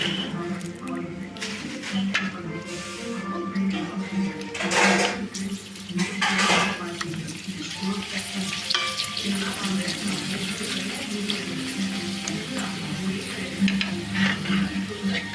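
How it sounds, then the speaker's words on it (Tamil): Raw goat intestine frying in hot oil, a continuous bubbling sizzle with stirring scrapes and watery hiss, under intermittent talk. "இப்போ பாருங்கள், இந்த பச்சை குடலானது எண்ணெயில் போடுறோம். எண்ணெய் சூடாகிடுச்சு."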